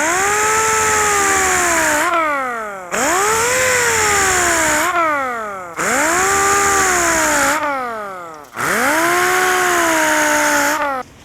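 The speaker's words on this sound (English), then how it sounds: "we can go back with our sander and make it smooth. Just a DA set on cut and 80 grit" A dual-action sander set on cut with 80-grit paper smooths bare metal on a chopped 1932 Ford. Four loud, whining bursts rise and sag in pitch, each separated by a short pause.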